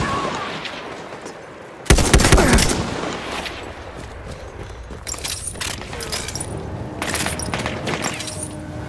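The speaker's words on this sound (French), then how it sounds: "Mitrailleuse ennemie en vue!" Enemy machine gun fire in Battlefield 1, a sharp loud burst early followed by repeated rattling volleys at middle distance amid battlefield noise.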